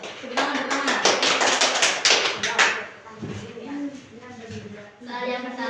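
Students in a classroom clap for about two and a half seconds, a dense burst of hand claps up close, then a teacher's voice continues talking afterward.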